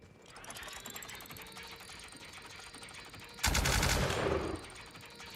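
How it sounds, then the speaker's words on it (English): Warning shots ring out from a gun in The Outer Worlds: a rapid ratcheting burst of mechanical clicks builds, then a loud sustained blast of automatic fire lasts about a second before trailing off. "Just some warning shots."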